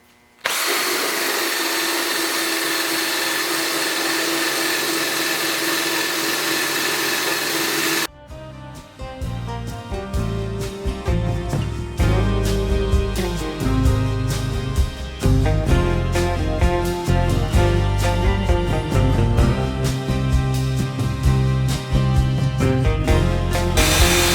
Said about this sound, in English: So we're going to use a 3M decal eraser, is my favorite. And we're going to peel these decals off